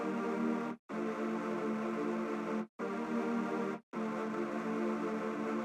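Soul chords from Xylent sustain as four thick, held synth chords with a dense, buzzy texture, cut by short silent breaks between them, playing alone at a moderate level.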